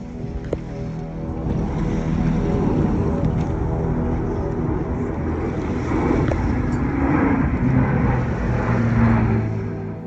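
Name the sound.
flying boat aircraft passing low over a boat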